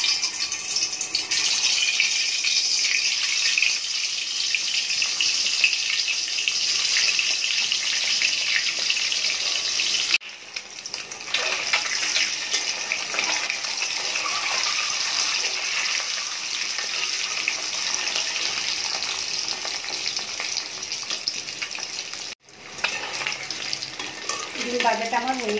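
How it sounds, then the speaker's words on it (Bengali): Beaten eggs seasoned with turmeric and salt sizzle in hot oil in a pan, a loud continuous crackling hiss that holds steady throughout, dipping briefly twice. "তেলটা গরম হয়ে গেছে, আমি ডিমগুলো দিয়ে দিচ্ছি।"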